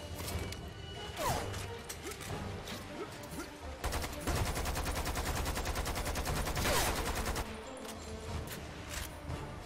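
Rapid bursts of automatic gunfire in the video game Lost Planet 2, dense rattling volleys with sharper single shots and crashes between them, loud and sustained, with a faint voice underneath at moments.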